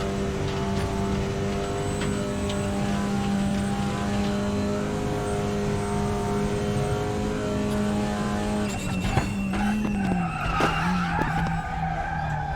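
A touring race car engine in the RaceRoom racing game at Spa holds a high, steady whine, then revs and shifts pitch with tire squeals near the end; no talking.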